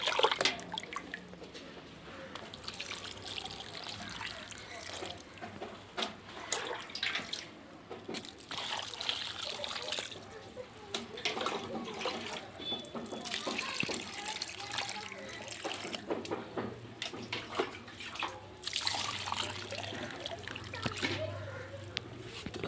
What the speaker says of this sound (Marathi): तर आता आपण हे टाकून घेऊया पाणी